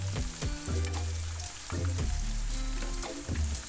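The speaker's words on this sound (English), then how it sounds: "So now I'm going to turn the akara the other way around and let the other side cook, and you leave it to fry." Akara bean fritters fry in hot oil, a close crackling sizzle with bursts of popping and a few clinks and scrapes as the fritters are turned in the pan.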